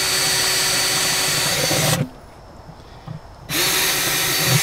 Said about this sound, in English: So the first thing we need to do is drill some holes in these buckets.